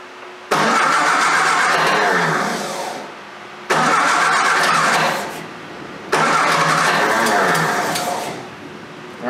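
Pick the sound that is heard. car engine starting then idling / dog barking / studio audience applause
car engine starting then idling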